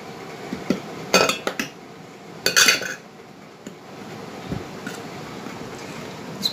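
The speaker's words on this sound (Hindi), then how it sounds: "इसको मिक्स कर लेना है।" A spoon clinks and scrapes around a bowl while tikka masala powder is stirred into yogurt, a few sharp metallic taps in clusters over a soft, quiet background.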